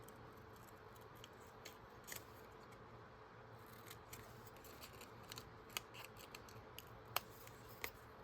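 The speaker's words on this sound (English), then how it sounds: "It's gonna take me some time to practice to use these little tiny scissors." Small, tiny scissors snip paper for a spring journal, producing faint, soft repeated cuts and a few sharper clicks against a quiet background hiss.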